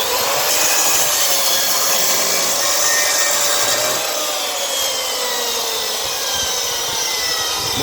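A power saw cutting through wood at a 45-degree angle, a loud steady high whine with a continuous rasping bite that holds throughout and slowly dips in pitch, close and without talk.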